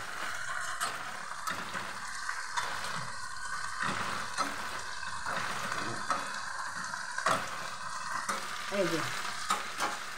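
Okra stir-fries in a pan with a steady sizzle and scraping stirs that recur throughout, and a voice speaks briefly near the start.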